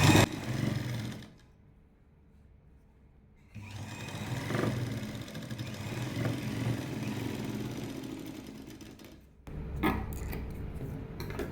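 Sewing machine running steadily while stitching a lined jacket, with a brief pause early on, then a continuous whirring hum, a short stop, and another burst of stitching.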